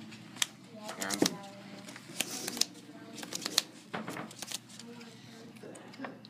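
Playing cards are shuffled back into a deck during a Yu-Gi-Oh! tabletop duel between Satellarknight and Shaddoll decks, making quick, close riffling and snapping bursts amid people talking throughout.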